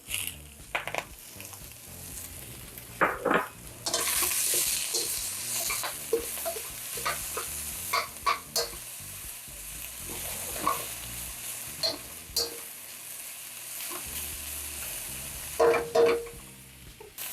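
Bacon sizzling in a wok while being stirred, with crackling fat, scattered sharp scrapes and clanks of a spatula, and a burst of louder hissing early on, all close and without talk.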